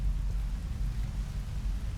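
Steady rain in the video game Rain World, a dense low rumbling wash of rainfall with a thunder-like undertone, continuous and even throughout with no voices.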